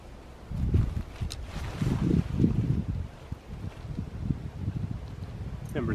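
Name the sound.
wind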